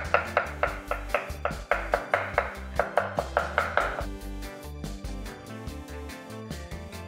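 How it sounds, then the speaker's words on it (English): A knife chops ripe avocado for guacamole on a cutting board, a quick run of about a dozen evenly spaced, close knocks over background music that then fades out. "I'm going to quickly chop it up, you don't have to"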